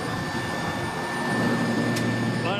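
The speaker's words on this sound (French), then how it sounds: "Voilà, on est toujours à l'intérieur de cet hélicoptère." Steady loud engine and rotor roar fills the cabin of a military helicopter at a special forces demonstration, a constant broadband drone with a faint whine on top.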